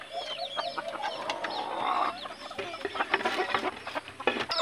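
Labuyo (red junglefowl) breeding chickens clucking close by, a busy run of overlapping cackles and short calls that carries on throughout.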